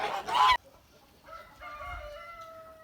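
A short burst of loud honking from Kholmogory geese, followed by quieter background sounds and faint higher calls from birds further away.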